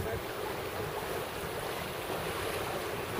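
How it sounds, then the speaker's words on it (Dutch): Rushing water and wind noise roar steadily, a broad continuous wash like a strong current against a boat on the Vliesloot near Vlieland, with no speech. "Maar het stroomt hier toch nog wel als een dolle hoor,"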